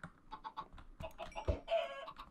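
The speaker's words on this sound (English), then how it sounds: "I'm gonna feed these chickens." Minecraft chickens in a video game give short, repeated clucks, fairly close and moderately loud, in an irregular series.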